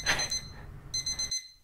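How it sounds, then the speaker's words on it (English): A video game alarm clock rings in a bedroom scene with a bright electronic trill, then quick repeated beeps that stop abruptly into silence. "Oh, the alarm went off!"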